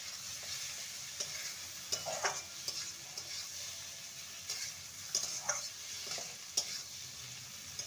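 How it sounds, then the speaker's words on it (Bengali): An egg and bottle gourd dish with chopped coriander frying over high heat while being stirred, with a constant hiss of sizzling and occasional soft scrapes of a spatula. "ভালো করে নেড়ে নেব।"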